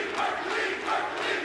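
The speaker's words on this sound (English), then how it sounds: "this crowd is absolutely insane" A large crowd roars and cheers continuously at a Call of Duty League Major IV esports tournament, a dense, loud, sustained wall of voices without distinct speech.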